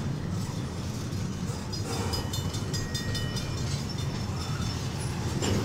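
Canadian National freight locomotive 9638 hauling a slow freight train through Effingham, Illinois, a steady low rumble of rolling railcars with faint rail clatter, continuous and fairly close, no talking.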